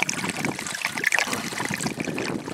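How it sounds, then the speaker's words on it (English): Water drains steadily out of a full pipe at the end of a test, a continuous close trickle and gurgle with a broad watery hiss running the whole time. "So now you can see the water drains out of the pipe."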